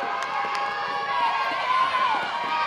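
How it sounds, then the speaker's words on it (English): Crowd at a women's college softball game between Florida State and Louisville at the ballpark, a steady roar of cheering and yelling with a few whistles, loud and close, filling the whole short stretch. "The crowd, they're not quieting down. They're pretty amped up after a long day of softball at the ballpark."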